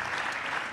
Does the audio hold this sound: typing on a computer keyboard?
no